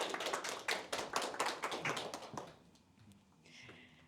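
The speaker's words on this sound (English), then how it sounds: "Give it applause." An audience at an alumni talk event in Almaty applauds a speaker: a burst of fairly close, dense clapping for about two and a half seconds that then fades to a few scattered claps and room quiet.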